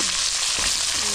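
Papaya pieces frying in oil for a vegetarian papaya and potato curry, a brief, steady close sizzle with no talking.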